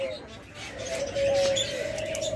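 Doves cooing nearby, soft repeated coos with faint chirps from other birds, under a voice talking.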